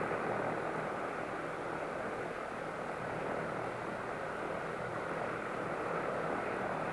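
A Grumman OV-1 Mohawk observation aircraft flies at low level, giving a continuous broad engine roar and rushing drone that stays steady and loud throughout, with no talk.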